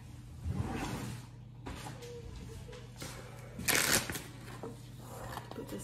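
Crinkly plastic bag rustling comes in bursts, with a louder crackling burst partway through, over a low steady hum in a kitchen.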